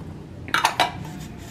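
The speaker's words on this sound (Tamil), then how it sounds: "இந்த முளைக்கட்டின பயிரையும் சேர்த்து மிக்சியில் போட்டுக்கலாம்" Garlic and sprouted pulses drop into a steel mixer jar with a few quick clinks and clatters close by, then it goes quiet.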